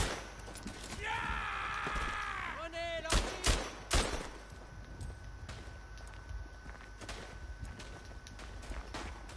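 Rifle shots ring out during gameplay of the WWI shooter Verdun, a few sharp loud cracks in quick succession among battlefield noise, with a brief voice-like tonal sound just before them.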